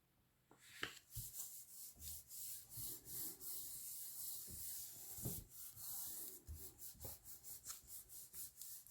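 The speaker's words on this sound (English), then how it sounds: "Just smoothing that glue, just using a bone folder so that it doesn't leave any ridges on there." Bone folder rubbing and smoothing freshly glued paper on a flip tag envelope pocket, a series of soft, close, rhythmic scraping strokes with a few light taps, no talking.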